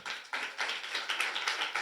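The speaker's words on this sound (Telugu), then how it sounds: "చప్పట్లు గట్టిగా." An audience at a church gathering claps, the claps coming as a quick, even run of sharp hand slaps at close range throughout, with no talking over them.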